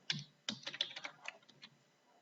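Rapid, uneven bursts of keystrokes on a computer keyboard, close and clear, as a short string is typed into PHP code, with no voices over it.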